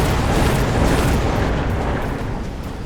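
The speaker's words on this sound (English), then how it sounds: "Oh, the missile." A loud, broad roaring blast from a missile strike in the strategy game Mechabellum, a sustained rumbling explosion that slowly fades out.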